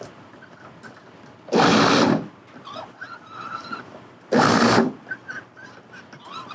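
Food processor chopping broccoli with the pulse button, two loud short whirring bursts a few seconds apart, with quieter handling sounds between them.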